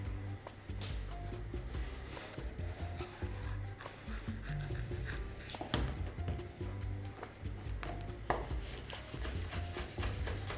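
A knife chopping red bell pepper on a cutting board for a tomato and shrimp salad, with close, irregular crisp thuds and scrapes throughout, alone without talk.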